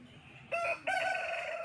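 A rooster crows at a rural poultry market in Jhargram, West Bengal, in one short, loud, close call that breaks into two harmonic bursts over a murmur of background noise.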